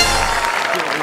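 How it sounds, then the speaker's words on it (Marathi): A studio audience at a Marathi comedy quiz show claps in a short, dense burst of applause, close and loud for about a second. "तर जोरदार टाळ्या"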